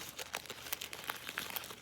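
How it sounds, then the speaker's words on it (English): Tissue paper crinkles and rustles steadily as its layers are peeled up by hand, close and fairly quiet, a continuous run of small crackles with no talk. "And you start peeling up the tissue layers."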